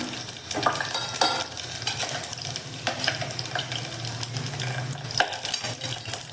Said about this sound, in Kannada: ಸೊ ಇಷ್ಟನ್ನು ನಾನು ಫ್ರೈ ಮಾಡ್ಕೊಳ್ತೀನಿ